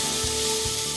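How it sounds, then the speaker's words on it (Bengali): Jackfruit pieces tossed with salt and frying in oil in a pan give off a steady, close hiss with a soft low rumble, continuous for the whole second. "এবার এঁচোড়গুলো নুনের সঙ্গে মিশিয়ে নেব এবং সামান্য লাল করে ভেজে নেব।"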